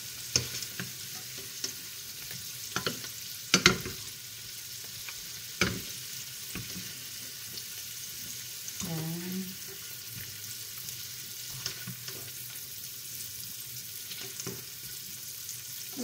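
Shrimp frying in a pan give a soft, steady sizzle, fairly quiet and close, broken by a few sharp clinks and stirring knocks, with no speech.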